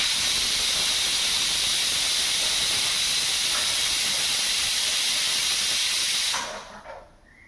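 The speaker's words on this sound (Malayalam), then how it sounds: "എന്നിട്ട് കുക്കർ അടച്ചിട്ട് വേവിക്കാം, വിസിൽ വേവിക്കാം." A pressure cooker cooking mutton for curry releases a steady, loud steam hiss that holds for about six seconds, then cuts off abruptly into near quiet.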